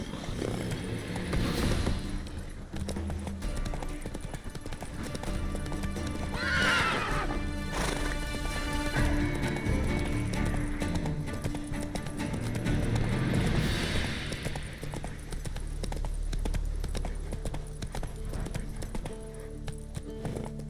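Roach, the horse in The Witcher 3, gallops with steady, close clip-clop hoofbeats running through the whole stretch, broken midway by a loud neigh and a snort.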